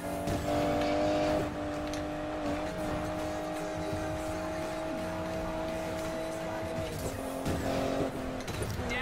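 Race car engine in the video game Need for Speed Payback, a steady droning roar held at high revs with shifts in pitch and occasional tire squeal, loud and continuous with no talk.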